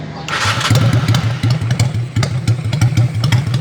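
Honda Steed 400 motorcycle with a single carburetor idling up close, a steady low lumpy engine throb with mechanical clatter running loud throughout, starting just after a brief burst of noise at the top.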